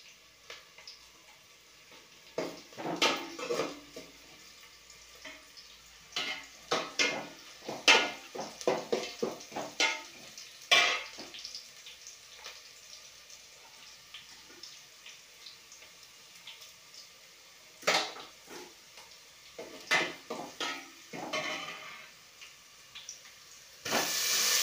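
Chicken pieces sizzling in a hot pan for an Indian-style chicken gravy curry, with loud crackling bursts and hissing that come and go in clusters over a steady frying background, no voices.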